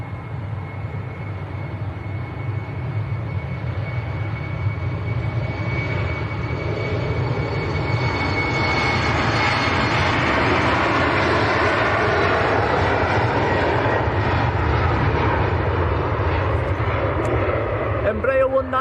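A KLM airliner begins its takeoff roll at Manchester Airport, engine roar building steadily from a distant rumble to a loud, sustained blast that holds through the end, with a faint voice talking over it.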